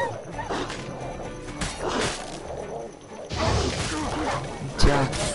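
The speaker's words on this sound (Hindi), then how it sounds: "कुत्ते पड़ गए पीछे।" Wild dogs barking and yipping in pursuit in The Witcher 3, snarling bursts amid combat clatter and horse movement, with a voice talking over the chase and a sharp hit near the end.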